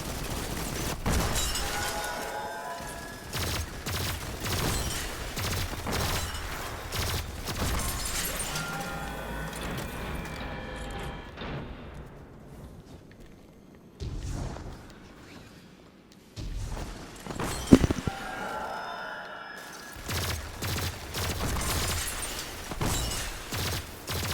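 Rapid gunfire rattles through a busy video game raid as players shoot a crystal encased in a bubble, the shots layered with crashes and shattering effects in dense, continuous bursts with a brief lull midway.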